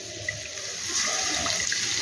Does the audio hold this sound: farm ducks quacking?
no